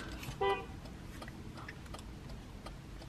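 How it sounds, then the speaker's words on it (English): A brief car horn toot sounds at a distance over a steady low rumble, followed by faint ticking clicks. "Did they honk?"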